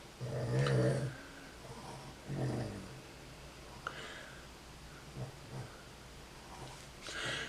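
Pet dog growling and snorting close by, several low rumbling bursts spaced across a quiet room, the first loudest, with short nasal snorts in between and no talking.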